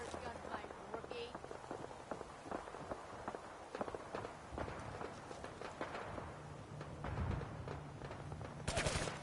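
A Fallout 4 video game gunfight, with rapid bursts of gunfire and footsteps, dense and continuous, and voices speaking over the action.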